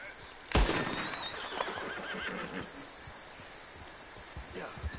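A horse in Red Dead Redemption 2 gives a loud, sharp whinny near the start, then the sound trails off over a bed of game ambience. Faint hoofbeats and distant bird calls follow, with possible voices in the background.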